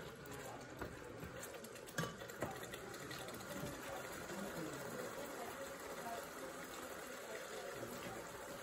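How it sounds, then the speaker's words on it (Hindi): Water poured into a pan of frying potatoes with fenugreek, carrots and peas, giving a steady close gushing, sizzling wash that runs throughout, with a few sharper splashes near the start. "इसमें हम थोड़ा सा पानी डाल देंगे"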